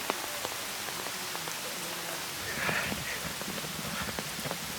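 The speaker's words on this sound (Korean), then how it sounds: "갑자기 내리는 비. 점점 거세진다." Sudden heavy rain falls in a Shanghai street, a steady broadband hiss of drops on hard surfaces with scattered sharper splashes, swelling briefly in the middle and continuing evenly throughout, with no voices.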